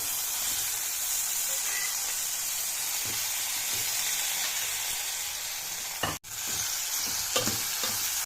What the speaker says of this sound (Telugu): చికెన్ ఫ్రై చేసి కొద్దిగా మసాలా వేసి